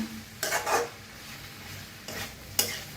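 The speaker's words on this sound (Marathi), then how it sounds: "एक मिनिटभरच असंच हलवून भाजून घेऊया मस्त असं छान" Cabbage sabzi is stirred and roasted in a pan, with three brisk scraping strokes of a spoon over a faint background sizzle.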